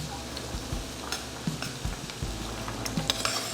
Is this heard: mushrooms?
yes